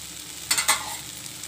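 Mixed vegetables fry gently in a pan over a low flame with a soft sizzle, broken by two brief scraping stirs in the middle, close and without speech.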